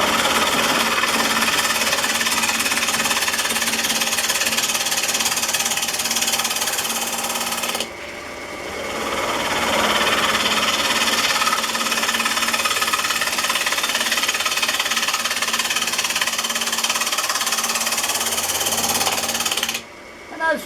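A wood lathe spins a workpiece for a turned clock while a gouge steadily cuts away the wood, making a continuous loud rough grinding chatter with a brief dip midway.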